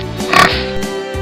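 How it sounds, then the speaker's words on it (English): A single short pig oink sounds close and clear, with nothing else around it. "Pig."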